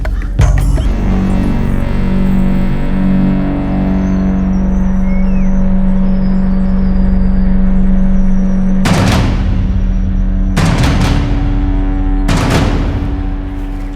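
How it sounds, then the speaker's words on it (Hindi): A vehicle pulls up with a loud, steady engine drone that holds for several seconds, then three sharp, heavy bangs ring out at roughly even intervals near the end, close and loud. "सर गाड़ी आ गई।"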